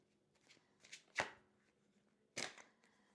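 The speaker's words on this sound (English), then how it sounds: "I really need to get better at my shuffling." Tarot cards being shuffled by hand in two quick riffling bursts, one near the middle and one later, with faint rustles between, close and fairly quiet, no talking.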